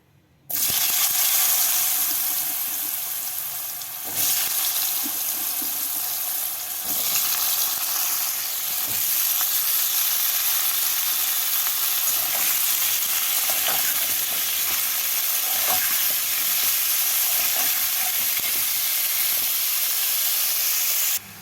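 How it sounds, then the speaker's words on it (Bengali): Kohlrabi, potato and shrimp sizzle loudly in hot oil, a continuous bright crackling hiss with occasional stirring scrapes, no voices. "এই তেলের মধ্যে ওলকপি, আলু আর চিংড়ি মাছগুলোকে ভেজে তুলে নেব।"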